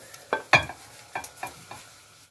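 Boiled macaroni drops into a buttered Pyrex dish in a home kitchen, soft wet plops and light scraping knocks landing in a few close, uneven bursts with no voices.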